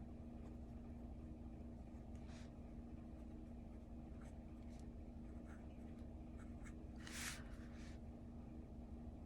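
Pen nib scratching across paper as a Pelikan M200 fountain pen writes out the alphabet, faint intermittent strokes over a steady low hum, with one louder scratch near the end.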